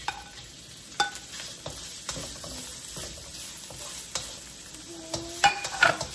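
Hotdog pieces fry in a little oil for Filipino spaghetti, giving a soft sizzle with scattered clinks and scrapes of stirring, fairly quiet and close.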